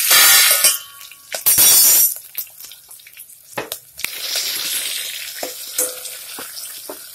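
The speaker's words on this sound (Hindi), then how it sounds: "अब ये सारे मसाले इसके अंदर ऐड करेंगे और इसे अच्छी तरह से भून लेंगे" Whole spices sizzling and crackling as they roast in a hot pan for South Indian sambar, with loud bursts of frying early on and sharp clinks of utensils against the pan, settling into a steadier low sizzle.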